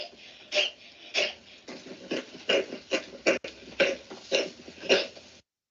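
Livestock coughing in a barn demonstration of a cough-alert system, a steady run of about ten hoarse, raspy coughs at a regular rhythm, moderately close with a noisy background.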